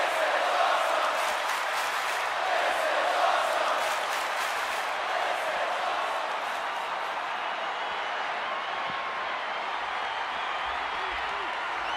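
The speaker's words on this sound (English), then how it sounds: "this crowd is on their feet in full appreciation" A wrestling arena crowd in the WWE 2K20 video game roars and applauds in a dense, sustained wall of cheering, loud throughout and easing slightly toward the end, with commentary voices running over it.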